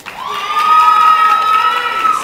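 A crowd of people yells and cheers at an honor society event, with one sustained high shout standing out above the steady, loud group noise.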